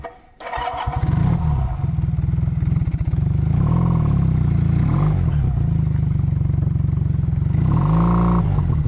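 A Kawasaki KZ750 motorcycle engine fires up and settles into a loud, steady, throbbing run close by, with several throttle blips raising the revs, and no voices.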